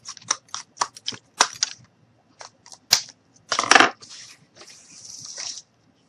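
Scissors or a blade cutting off excess glued wooden sticks on a small cardboard stove model, a series of close, sharp snips and crunches with pauses between, one longer crunching cut, then softer scraping.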